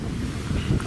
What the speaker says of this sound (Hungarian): Jó nagy szél van amúgy.